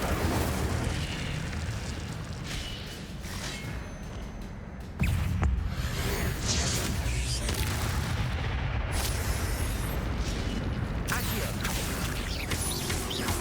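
Incendio fire spell cast in Hogwarts Legacy gives a continuous roaring, rumbling whoosh of flame and impacts with a sharp jump in loudness midway, sustained and full throughout.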